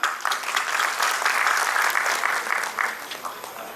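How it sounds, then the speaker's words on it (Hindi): A crowd at a donation event claps heartily in a sustained burst of applause, loud at first, then thinning and fading out over a few seconds. "एक बार रमेश जी की जोरदार तालियां।"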